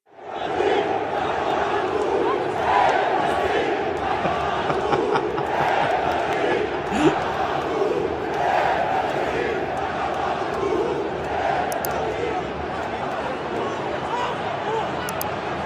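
Flamengo football fans chant in a huge crowd, a sustained, rhythmic roar of massed voices with swelling waves of singing throughout.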